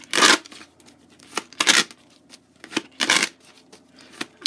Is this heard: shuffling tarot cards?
yes